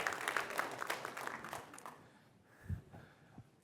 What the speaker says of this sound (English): Come on, guys, you're all supposed to clap.